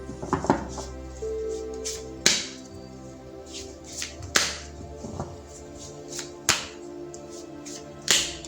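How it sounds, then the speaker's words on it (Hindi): Tarot cards are shuffled by hand, giving a series of crisp slapping riffles spaced a second or two apart, close and fairly clear with no talking. "तो पहले ज़रा मैं कार्ड्स को शफल कर लेती हूँ आपके लिए।"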